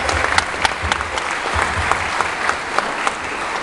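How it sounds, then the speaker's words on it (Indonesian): A crowd at a success-story seminar claps loudly and steadily throughout, a thick wash of many hands with a few sharper individual claps standing out near the front. "Banyak sekali, kita beri tepuk tangan"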